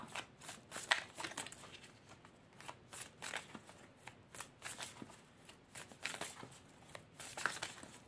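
A deck of oracle cards is shuffled by hand in quick, papery riffles and slides, a fairly faint, close and busy run of soft flicks with no voice.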